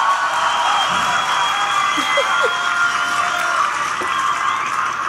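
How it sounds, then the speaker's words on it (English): An audience at a Grand Beatbox Battle 2019 semi-final applauds and cheers. The crowd noise is a steady, fairly loud wash of clapping with a few whoops, and a voice is faintly audible underneath. "Give it a round of applause for BR as well"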